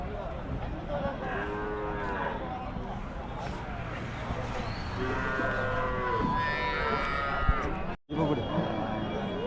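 Native cattle low repeatedly at a busy livestock market in Namakkal, several moos rising over a constant hubbub of voices and bustle, with people talking nearby.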